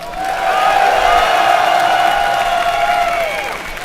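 A live audience at the MLG Columbus 2011 StarCraft II event cheers for Naniwa, a swell of crowd roar, whoops and clapping that rises quickly, holds for a few seconds and then fades.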